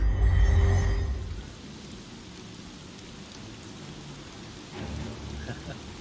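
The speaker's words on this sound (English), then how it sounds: "you look away for 1 second, bam, lightning." Rain and thunder in the PC game Shadowgate, near a stone tower: a rumbling thunder burst at the start fades into a steady hiss of rainfall, with a softer swell near the end.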